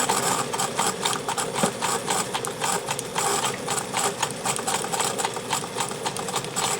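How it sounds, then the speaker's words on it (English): A sewing machine stitches a French seam down a length of fabric at a 5/8 allowance, a loud close rapid mechanical chatter running continuously with an even rhythm. "now we're going to sew all the way down to the bottom"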